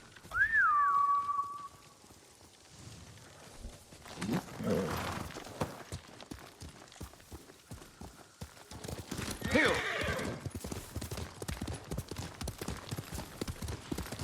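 A horse in the video game Ghost of Tsushima lets out a clear whinny at the start. Quiet rustling follows, then two louder bursts of galloping hoofbeats and a steady run of clip-clopping hooves to the end.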